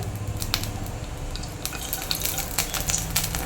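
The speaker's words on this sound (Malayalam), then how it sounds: "ഞാൻ ഒരു രണ്ട് സ്പൂൺ നെയ്യ് ഇട്ട് കൊടുക്കുന്നുണ്ട്" Two spoons of ghee melt and sizzle in a hot kadai while making Kerala-style chakka varatti, a soft steady frying hiss with a few light clicks and scrapes of a spoon against the pan.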